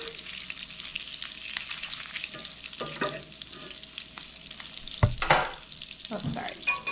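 Peppers and onions frying in a pan, with a steady close sizzle and occasional stirring scrapes, louder toward the end.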